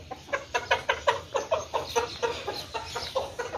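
Chicken chicks cluck in a rapid, regular series of short calls while being fed, a dozen or so in quick rhythm, fairly faint and close with nothing else over them.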